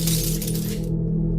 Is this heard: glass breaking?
yes